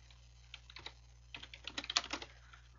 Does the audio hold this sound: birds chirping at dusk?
no